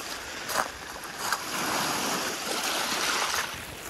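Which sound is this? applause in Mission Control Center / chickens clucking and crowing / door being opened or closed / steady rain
steady rain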